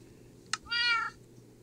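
A single short game-style cat meow in a survival video game, clear and close, following a brief click, with a steady low background hum and no talking.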